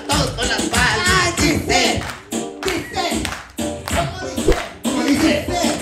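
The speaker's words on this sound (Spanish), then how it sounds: "todos con las palmas." A crowd claps its hands in rhythm at a party with viral clowns, loud and close, in steady beats with short pauses, while voices talk and shout over the clapping.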